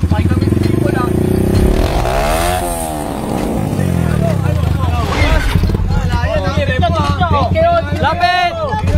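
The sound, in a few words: motorcycle engine revving, 6,000 with turbo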